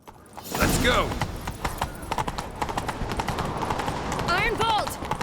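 Horse hooves pounding at a gallop in The Witcher 3 video game, a rapid continuous clatter close by, with a horse whinnying twice and voices talking over it.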